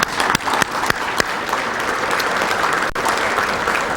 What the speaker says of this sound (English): why don't we give them a round of applause anyway?